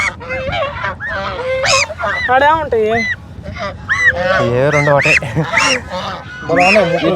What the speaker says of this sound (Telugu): హంసలు అంటారు హంసలు బంగ్లా బాతులు